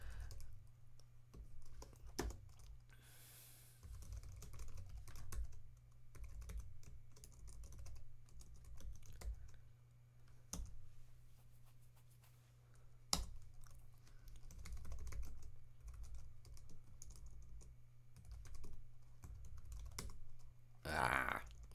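Quiet, steady typing on a computer keyboard while writing JavaScript code, a continuous run of soft key clicks with occasional sharper taps and a faint low hum.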